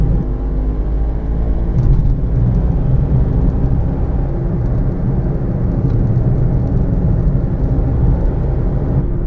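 Toyota Aygo engine held in third gear on a winding hill road, a steady low rumbling drone with road noise from inside the car, constant and fairly loud throughout, with no talking.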